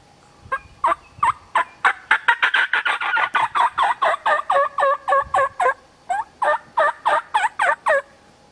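A person imitates a turkey hen's fly-down cackle on a call: a loud, close run of sharp, clucking notes that speeds up into a dense burst, then slows into evenly spaced yelps.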